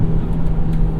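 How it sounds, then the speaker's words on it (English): A 2007 Volvo S60R sedan with Haldex all-wheel drive and a six-speed manual, its front wheels hopping on a cold, wet road, produces a steady loud engine drone and low rumble throughout. "That Haldex system giving us quite a bit of front wheel hop there."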